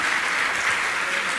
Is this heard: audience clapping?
yes